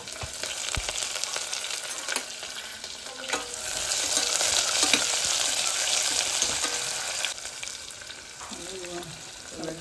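Onion sizzles steadily in hot oil in a pan, with occasional scrapes and clinks of stirring over a constant hiss at moderate volume.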